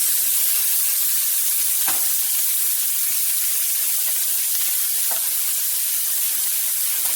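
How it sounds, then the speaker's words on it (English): Continuous loud sizzling and hissing of zucchini frying in a hot pan, with a few faint clinks and scrapes. "I'm going to dump it in the frying pan."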